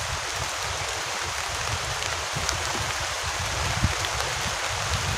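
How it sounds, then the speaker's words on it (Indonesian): A steady, heavy downpour on a camping shelter during a storm roars without a break, dense and even, with occasional louder drops splashing nearby. "Hujan deras banget nih."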